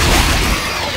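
A window blown out in the video game Dead Space 2 triggers a vacuum decompression: a loud, dense roaring rush of air that starts strong and gradually thins out over about a second, with no talk.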